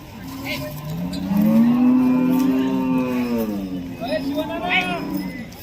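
A Khillar cow at a cattle market in Sangola lets out a long, deep moo close by, followed by a shorter second call, with other faint noises in the background.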